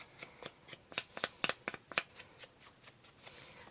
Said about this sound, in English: We're going to sponge around the outside.